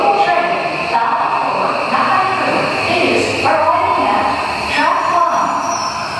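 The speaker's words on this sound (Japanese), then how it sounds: "まもなく1番線に中目黒行きが参ります。" A Tokyo Metro Hibiya Line subway train pulls into an underground platform bound for Naka-meguro, a steady rumbling roar with brake squeals and hiss, while station announcements and voices carry over the noise.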